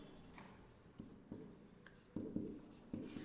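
A teacher writing an English sentence on a board during a lesson: soft, scattered scratching strokes with a few firmer taps, close by and faint, with no talking.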